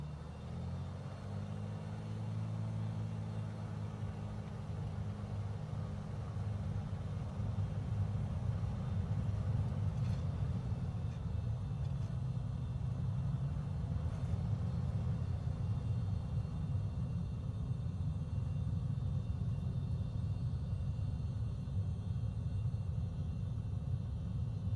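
A Beechcraft takes off in Microsoft Flight Simulator, its engine a steady, heavy rumbling drone that holds and swells slightly across the whole stretch, with no talk over it.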